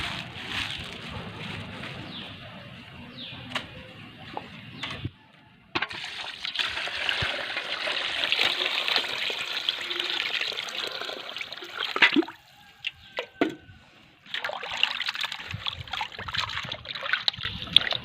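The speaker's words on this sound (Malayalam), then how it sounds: "നന്നായിട്ട് ഒരു 2-3 വട്ടം വെള്ളം ഒഴിച്ച് കഴുകുക." Running water splashes and trickles steadily, with brief pauses and shifts in flow as raw chicken pieces are rinsed under it, close by.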